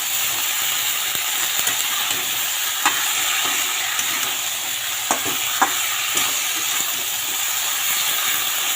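Vegetables frying with turmeric in a pan as a spatula stirs them, a constant hissing sizzle broken by irregular scraping knocks, close and fairly loud with no talking.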